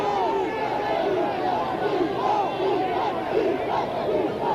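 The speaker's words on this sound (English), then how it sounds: "The crowd getting quite excited now" A rugby league stadium crowd between Batley and Keighley roars and chants excitedly in a continuous, dense wash of voices, with a commentator's voice faintly woven through.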